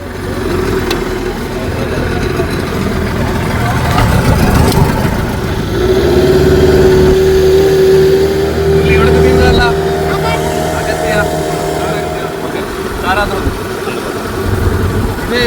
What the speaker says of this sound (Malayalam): ഇതിൻ്റെ പേര് OBM, ഓവർ ബോർഡ് മോട്ടർ പറയും, അല്ലെങ്കിൽ ഔട്ട് ബോർഡ് മോട്ടർ